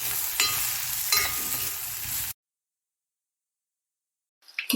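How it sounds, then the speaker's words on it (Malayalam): Okra sautés in coconut oil with a pinch of salt for sambar, a close sizzle with scraping stirs that lasts about two seconds before cutting to silence, then a short rustle at the end. "ഇനി അതേ ചീനച്ചട്ടിയിൽ തന്നെ നമ്മൾക്ക് വെണ്ടയ്ക്ക ഒന്ന് വഴറ്റിയെടുക്കാം"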